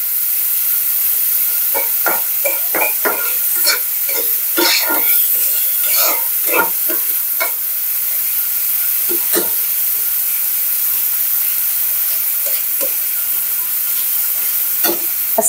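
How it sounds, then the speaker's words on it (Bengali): Onions and green chillies fry in a pan for potato chops, giving a steady close sizzle and hiss broken by scattered clicks and scrapes of stirring. "আলু চপের জন্য পেঁয়াজ আর কাঁচামরিচ ভেজে নিচ্ছি"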